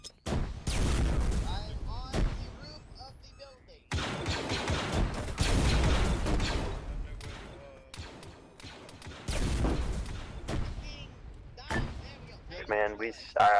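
A frag grenade explodes in a military shooter game, heavy booms repeating among bursts of gunfire over several seconds, loud and close, with players talking over the noise.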